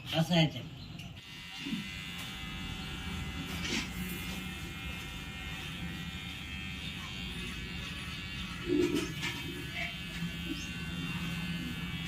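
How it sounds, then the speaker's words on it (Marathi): Electric clippers buzz steadily while shaving an elderly person's head, close and continuous, with brief voices and small handling noises around it. "आता ह्यांचे केस कापायचे आणि चला भंडारी इथं बसा"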